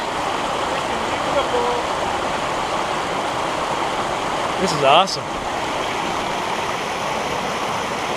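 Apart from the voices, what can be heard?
waterfall in winter woods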